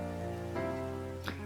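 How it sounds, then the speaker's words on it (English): Rain falls steadily in the Pokemon Violet video game, a soft continuous patter beneath a sustained tonal game backdrop, with a brief brighter swish near the end. "It's raining now."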